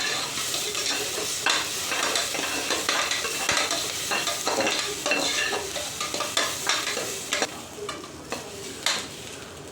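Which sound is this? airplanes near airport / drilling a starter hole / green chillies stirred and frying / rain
green chillies stirred and frying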